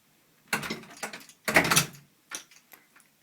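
A door is pushed shut before an intruder alarm is set, giving a couple of clattering knocks and a firmer latching thud, followed by a few light mechanical clicks in an otherwise quiet room.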